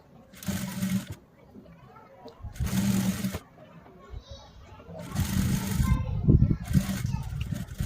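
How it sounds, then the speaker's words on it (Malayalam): Sewing machine stitching lace onto a dupatta, running in several short bursts of steady whirring separated by pauses, close and fairly loud, with faint background voices. "അപ്പോൾ ഇതാ ഒരു 1 ഇഞ്ച് ഗ്യാപ്പിൽ ഇങ്ങനെ സ്റ്റിച്ച് ചെയ്ത് കൊടുക്കുക."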